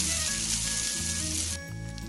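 Egg-dipped potato tikkis fry in a hot pan, giving a loud, steady oil sizzle with crackling spatter that eases slightly toward the end; no talking.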